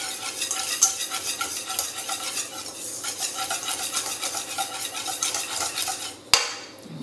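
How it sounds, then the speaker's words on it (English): Flour and milk whisked in a large bowl, a rapid, steady rhythmic scraping and tapping of the whisk close up that stops with a sharp clink near the end. "Place the flour in a large bowl, add a little bit of the milk, and whisk until smooth."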